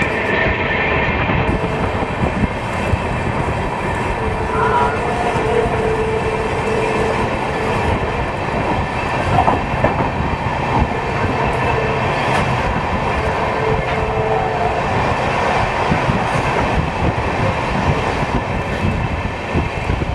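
The Pamban Express from Rameswaram to Tambaram runs with a steady, loud rumble and rhythmic clatter of wheels on track, continuous throughout with no pauses.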